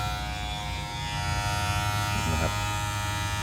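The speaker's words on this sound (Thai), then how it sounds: "เดี๋ยวเรามาฟังเสียงกันนะครับ มอเตอร์แรงครับ" A Wahl Legend cordless hair clipper with a 9000-per-minute motor runs steadily up close, giving a continuous strong buzzing hum that holds throughout with a slight shift in tone partway through.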